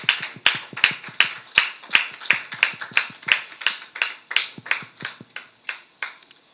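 A small studio audience welcomes guest surgeon Dr. Serge Métiongbe with sparse applause. Sharp, distinct claps from just a few hands keep a loose, even rhythm and thin out toward the end.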